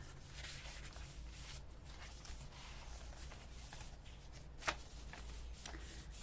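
Paper journaling cards are handled and shuffled in a junk journal, with faint soft rustling over steady low hum and one brief louder tap.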